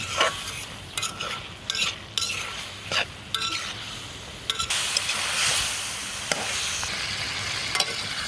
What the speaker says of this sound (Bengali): দিয়ে আলুটাকেও আমি মাংসের সঙ্গে সুন্দরভাবে কষিয়ে নেব